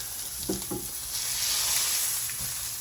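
Steak sears in a hot pan with a continuous crackling sizzle, plus a couple of brief low thumps near the start.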